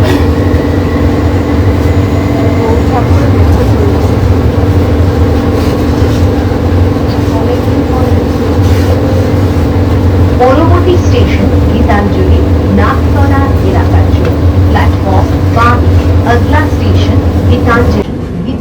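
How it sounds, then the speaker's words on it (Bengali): Ride aboard a Kolkata metro train, with a steady loud rumble of the carriage throughout and faint rail clatter, while a voice talks over it and brief announcement-like tones sound in the second half. "অনেক দিন পর মেট্রোতে উঠেছি"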